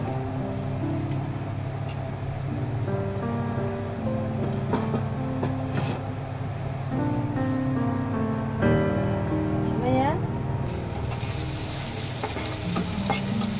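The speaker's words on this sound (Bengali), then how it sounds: "এখন সয়াবিন তেল দিয়ে আমি সব গোশগুলো ভেজে নেব।" Meat fries in soybean oil for chow mein, giving a steady, close sizzle that holds throughout with occasional light clinks and scrapes from stirring.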